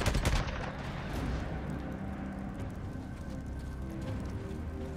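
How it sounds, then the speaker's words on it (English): Gunshots fired at enemies in the open-world game Days Gone, a loud opening blast followed by a dense, rumbling stretch of continuous fire. "Yeah, shoot them."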